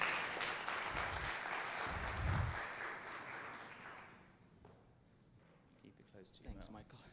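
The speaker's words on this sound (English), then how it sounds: "Round of applause, please." Audience applause at an international university startup competition, a broad wash of clapping that swells for a few seconds then fades out, followed by someone speaking.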